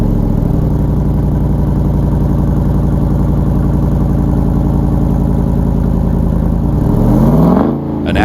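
A deep 392 Hemi V8 in a 2021 Jeep Wrangler Rubicon 392 idles with a throaty, burbling dual-mode exhaust rumble, then revs up sharply near the end before dropping off.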